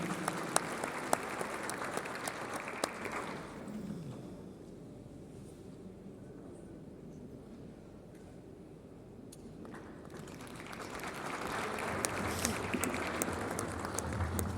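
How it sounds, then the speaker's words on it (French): Audience applause for a panel at an insurance conference in Marrakech, Morocco, loud clapping that fades to a murmur in the middle and then swells again. "sous vos applaudissements, s'il vous plaît"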